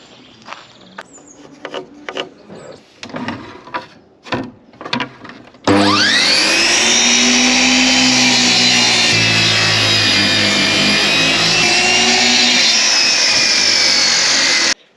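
A chop saw spins up and bites into angled wooden wall studs, a loud, close, sustained whine and cutting roar that runs unbroken for about nine seconds after a stretch of scattered handling knocks and clatter.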